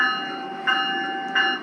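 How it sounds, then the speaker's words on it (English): A G-scale diesel locomotive's bell, produced by a TCS WOW Diesel 5-amp DCC sound decoder, rings steadily and up close, with a fresh clang roughly every 0.7 seconds and no talking. "Now I can use the bell."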